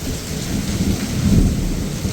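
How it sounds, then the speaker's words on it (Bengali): Heavy rain pours down in a steady, dense roar, with a low thunder rumble swelling near the middle; no voices. "ও দেখেন অনেক বৃষ্টি নামছে"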